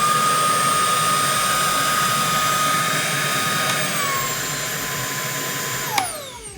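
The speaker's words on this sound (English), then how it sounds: "this is how loud that the vacuum sounds without the beater attachment" A Milwaukee Fuel jobsite vacuum runs without its beater attachment, a loud, steady high-pitched motor whine close by that winds down slightly near the end, with no talking.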